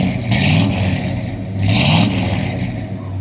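A 1975 Ford F100 pickup's 360 engine revs up hard twice, each surge swelling and falling back to a rough, rumbling idle, loud and close.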